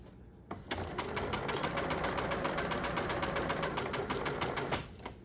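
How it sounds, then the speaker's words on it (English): Sewing machine running steadily as it stitches ribbing along a neckline edge guided by the presser foot, a close, even rapid needle rhythm lasting about four seconds before stopping. "with the edge of my presser foot so that I sew in a straight line."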